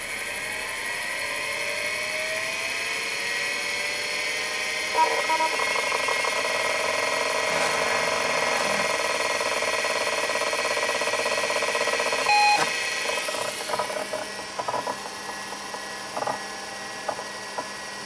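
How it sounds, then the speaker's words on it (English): A Seagate ST251 hard drive in a Wang PC240-3 spins up with a steady high whine over a constant fan hum, joined by faint clicks and short tones near the end. "so you can hear the sound of the ST251 spinning up"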